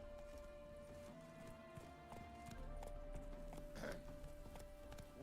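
Roach, the horse in The Witcher 3, clip-clops along at a steady trot, with rhythmic hoofbeats in quiet game ambience beneath a faint musical tone.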